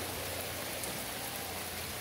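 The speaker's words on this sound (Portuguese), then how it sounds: "Muita chuva vai cair ainda na região." Heavy rain pours steadily in a dense, even hiss during a severe rainstorm in Juazeiro and Petrolina, loud and unbroken with no voices.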